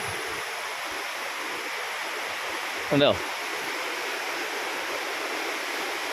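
A steady, even rush of the clear-water Mayiladippuzha river flowing fills the whole stretch, with a brief voice cutting in partway through.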